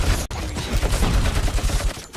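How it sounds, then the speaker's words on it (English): Enemies fire a dense, continuous volley of video game gunfire at the player, loud and close, with no talk over it. "those UEDs shoot. Too bad they're shooting at me"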